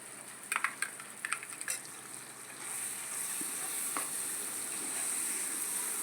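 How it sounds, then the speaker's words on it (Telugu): Ginger-garlic paste sizzles in hot oil in a pan for a fish curry, a steady frying hiss that grows fuller, with a few clinks and stirring taps near the start and no talk. "ఇది నూనె పైకి తేలేంత వరకు వేయించుకుందామండి"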